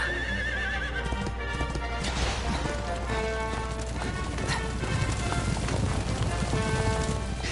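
Horses gallop with fast, steady clip-clop hoofbeats and neigh in Dragon Quest XI S, a dense and continuous game soundscape with no pauses.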